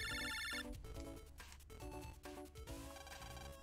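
A phone rings in the video game Mega Man Battle Network 4 with a bright, electronic, chiptune-style melodic ring that repeats over game music, with no talking.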